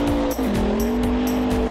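A yellow Camaro sports car in the Stunt Car Extreme driving game revs with a loud, steady engine drone that dips in pitch, with tires squealing throughout.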